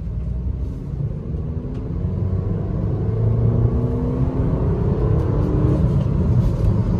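A 2024 Suzuki Ignis BS6 Phase 2 running on aftermarket CNG accelerates hard, its engine droning and rising steadily from inside the cabin over road rumble, loud and continuous throughout.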